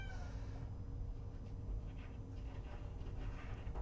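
A house cat meows somewhere in a quiet room, faint and close, over a steady low background hum with no talking.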